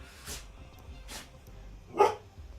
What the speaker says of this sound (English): You woke yourself up sneezing and then barked at, well, yourself for the sneezing.